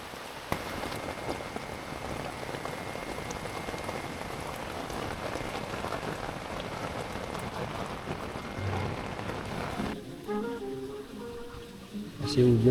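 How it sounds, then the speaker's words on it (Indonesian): Rain falls steadily outside a campsite tent near Curug Cibulao in the evening, a dense unbroken patter that shifts and thins near the end as faint voices come through. "Masih hujan guys di luar."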